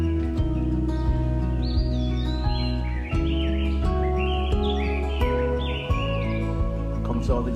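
Birds sing and chirp in a Maui forest of kukui nut and guava trees, varied high calls scattered throughout over a steady bed of sustained tonal music or drone.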